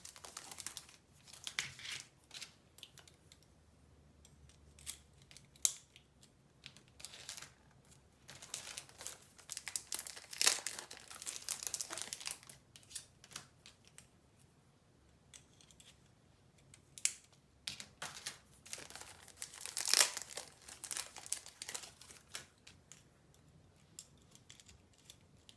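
Crinkling factory plastic film on a custom multi-size Sarasa Select pen being assembled gives quiet, close bursts of rustling and crackling separated by short pauses, with no talking.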